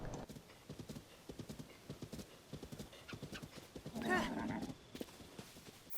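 Horse sounds in the video game Zelda Tears of the Kingdom: quick, light hoofbeat clip-clops run throughout, with a short whinny near the end, moderate and close.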